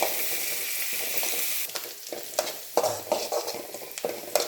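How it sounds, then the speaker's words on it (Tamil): Pirandai (adamant creeper) sautéing in a pan for chutney: a steady hiss at first, then short scraping stirs and soft sizzling bursts in an uneven rhythm, close by with no speech. "நல்லா நிறம் மாறுற வரைக்கும் நல்லா வதக்கணும்"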